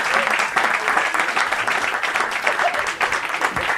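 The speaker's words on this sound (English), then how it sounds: "big round of applause for my buddy Doug Smith" Steady applause from an audience, dense clapping filling the whole stretch without a break.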